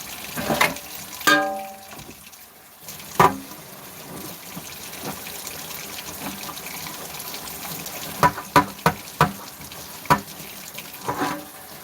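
A tap left running to keep pipes from freezing makes a soft continuous trickle, with scattered knocks and clicks over it and no talk.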